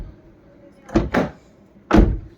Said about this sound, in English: You can test the door handle from outside by just closing the door